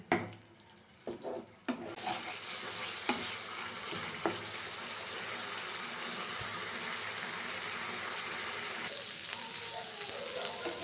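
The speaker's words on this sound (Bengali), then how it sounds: "এবারে পুরো মশলাটা বেশ ভালোভাবে কষিয়ে নিতে হবে যাতে মশলাতে এতটুকু জল না থাকে" Spice paste for pabda fish curry stir-fried in oil until dry, a dense continuous sizzle that swells in after a few loud clanks and scrapes of a spatula, holding steady and close throughout.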